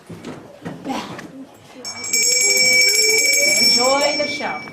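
A theatre bell rings for the third time, a sustained bright electric ringing that starts partway through and holds steady under a murmuring audience and talk.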